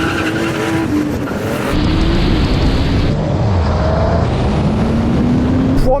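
Several generations of Porsche 911 Turbo cars launch side by side in a drag race, engines roaring loud and close with rising, shifting revs and a steady blast of exhaust noise throughout.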